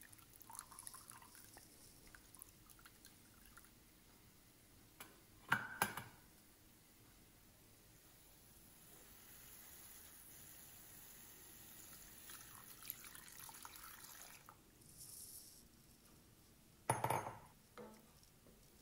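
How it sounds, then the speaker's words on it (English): Cooking water is drained off boiled yam in a kitchen, a faint quiet pour with a few brief clinks and splashes separated by quiet stretches. "I'm separating the water part from the yam to use it along with the tadka"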